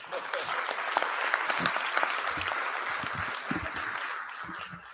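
Steady applause from an audience at a public event on the national health service, dense clapping sustained throughout with some voices mixed in.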